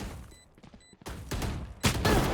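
Gunfire bursts from a competitive tactical shooter esports grand final, a few sharp shot clusters building in loudness, with the loudest volley near the end and no talk over them.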